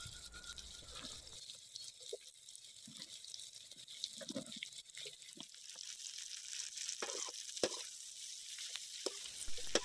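Onion and capsicum sautéing in a pan while cooking dragon chicken, a soft steady sizzle with faint watery crackles and occasional stirring scrapes, close and moderately quiet throughout.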